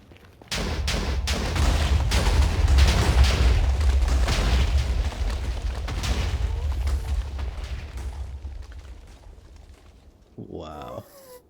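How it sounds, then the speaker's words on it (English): A big explosion in the Minecraft video game erupts into a loud, deep booming roar with crackling debris that slowly fades over several seconds, followed by a brief spoken voice at the end. "That was a big explosion."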